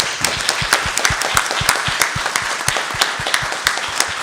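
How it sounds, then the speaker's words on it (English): Applause at a school district board meeting, a steady burst of close, crisp clapping from a small gathering that holds an even rhythm throughout. "Let's give Abby a round of applause."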